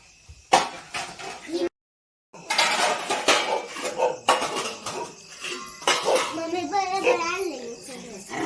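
Pots, plates and cutlery clink and clatter as a home-cooked meal is served, with irregular bursts of metal and dish knocks mixed with voices talking nearby.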